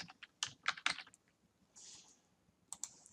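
Brisk bursts of computer keyboard typing, a quick cluster of clicky keystrokes, then a pause and a few more taps, close and fairly quiet with no talking.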